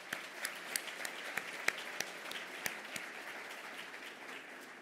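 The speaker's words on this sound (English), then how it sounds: "So I already would like to start with a big applause for the local organization." Applause from a conference audience at the opening session of a medical imaging meeting, a steady wash of many hands with a few sharper individual claps standing out, moderately loud throughout.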